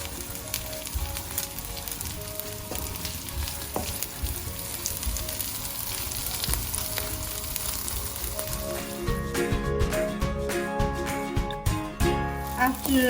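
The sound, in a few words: potato with dried anchovy frying and sizzling in a pan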